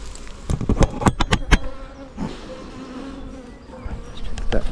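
Honey bees swarm around an opened hive, giving a steady, dense buzz with sharp close passes of individual bees flying right by.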